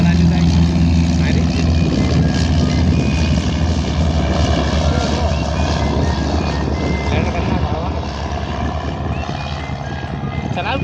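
A large airplane's engines roar steadily at a small airport in Pune, a loud continuous drone that eases slightly near the end while people talk in the background.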